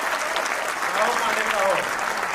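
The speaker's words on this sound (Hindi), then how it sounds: "एक बार जोरदार तालियां बजाइए" Live audience applauding loudly and steadily at a Hindi comedy poetry (hasya vyangya) show, a dense continuous wash of clapping with some voices and cheers mixed in throughout.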